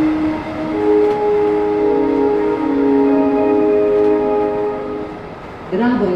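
A train set being pulled out of a track at Budapest-Keleti station in a train simulator game, heard as a sustained multi-tone horn-like drone with a rising tonal sweep at the end, with a station announcement voice over it.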